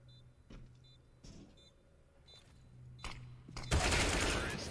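Rapid gunfire from a CS:GO match, a sharp burst of shots near the end after a few softer clicks and thuds, with a low in-game hum underneath.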